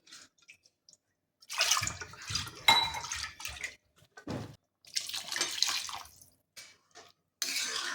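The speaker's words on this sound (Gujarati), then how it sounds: "કુકરમાં મેશ કરેલા શાકભાજીની અંદર થોડું પાણી નાખીને આપણે હલાવીને" Water is added to mashed vegetables inside a pressure cooker while making pav bhaji, giving bursts of pouring and splashing with short pauses between them, close and fairly quiet.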